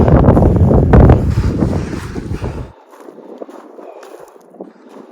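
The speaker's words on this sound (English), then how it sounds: "The wind's picking up though." Wind gusts across New Zealand high country mountains, heavy close buffeting on the microphone for a few seconds before easing abruptly to a fainter, lighter rush.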